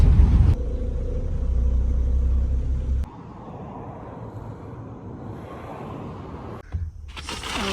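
Car driving along a road on a half-hour trip, a steady low rumble of engine and tire noise with wind buffeting, a sharp jolt partway through and no talking.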